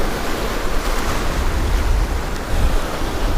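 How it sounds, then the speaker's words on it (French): Ocean waves and strong wind on the shore while fishing for striped bass, a loud, unbroken rush of surf and wind noise battering the microphone, swelling slightly near the end, with no voices. "Le vent se renforce encore. Enfin, c'est plutôt les vagues qui sont plus gênantes."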